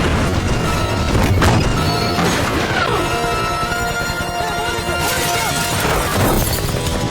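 An old cannon fires at a helicopter in a dense, loud barrage of booms, crashes and shattering impacts that runs continuously, with mechanical whines weaving through the din.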